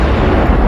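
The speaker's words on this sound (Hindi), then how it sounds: "उसका नतीजा एक जबरदस्त विस्फोट।" A missile slams into an asteroid in a tremendous explosion, a loud, dense, sustained roaring rumble filling the whole moment without any voices.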